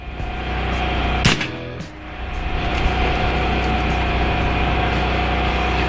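A single sharp report from an AEA Zeus .72 caliber PCP air gun, a loud close crack near the start of the clip, followed by a steady outdoor background hum with no talking.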